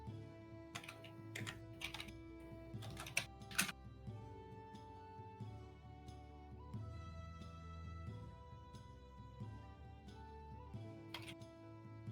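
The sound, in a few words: typing on a loud computer keyboard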